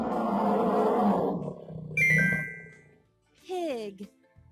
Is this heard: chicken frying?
no